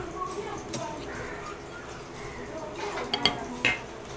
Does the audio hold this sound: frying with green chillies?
yes